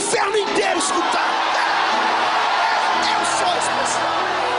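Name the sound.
church congregation shouting out loud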